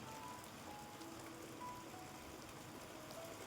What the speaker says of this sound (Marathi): म्हणलं मित्रांना दाखवावं आपलं पाऊस पडतोय